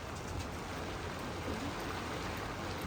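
Steady rain on a wet day outside a pigeon loft, a faint, even hiss of falling drops that holds without a break for the whole stretch.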